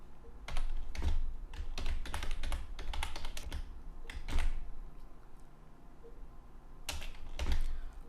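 Fingers type on a computer keyboard at close range, coming in short bursts of rapid clicking keystrokes with brief pauses between them, and no voice is heard over the typing.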